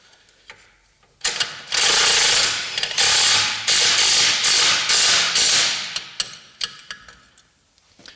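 Ratchet wrench tightening small nuts on the shock absorber mount of a Land Rover Discovery 1 during a spring and damper fitting, heard as a run of loud rapid clicking bursts in repeated strokes, close up and without talk.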